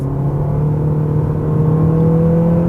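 A 2019 Toyota C-HR's engine strains under full throttle, a loud, steady droning hum with a gradually rising tone as the car accelerates from inside the cabin, heard alone without talk.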